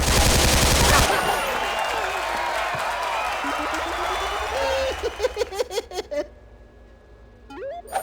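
Gunfire from the horror-movie-set shooter game Bloody Good Time: a loud burst at the start, then a stretch of dense mixed game sound and a series of short, sharp rhythmic shots toward the end.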